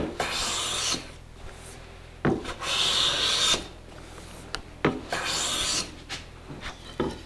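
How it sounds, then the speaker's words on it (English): Hand plane iron shearing shavings off a wooden drawer part in repeated broad, rasping strokes, four or five passes with short pauses between, close and fairly loud. "I advanced the iron, the blade, until it started to pick up a shaving"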